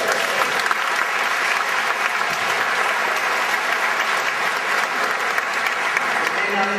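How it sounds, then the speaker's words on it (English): Steady audience applause rolls through a graduation ceremony hall, a continuous crowd of hands clapping at a fairly even, moderate level from start to finish. "So let's give them a round of applause."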